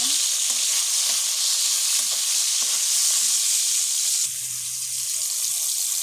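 Pointed gourd frying with salt, a loud, continuous hiss and sizzle with soft scraping strokes of stirring, the texture shifting briefly near the end.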